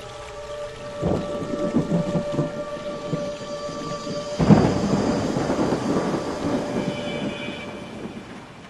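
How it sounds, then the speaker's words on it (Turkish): Rain begins as thunder rolls in, a sudden crack near the start and a louder long rumble midway, both followed by sustained rainy noise at moderate loudness. "Hadi içeri yağmur başlıyor."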